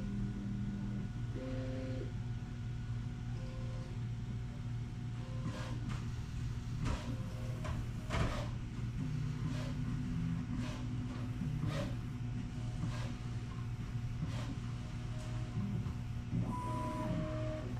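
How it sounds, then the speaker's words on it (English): Prusa MK4 and MK3 3D printers run nozzle calibration near 170 degrees, then park the nozzle while heating. A steady mechanical hum runs throughout, with short stepper-motor tones and faint clicks and taps scattered on top. "it does this calibration process when the nozzle is at about 170 degrees, and then of course it parks again to finish heating"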